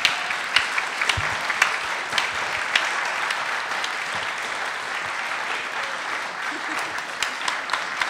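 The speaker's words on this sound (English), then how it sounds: "now everyone, free to go and clap" An audience at a panel discussion claps for the guests, a sustained crowd applause with sharp individual claps popping out near the front and a brief low murmur partway through.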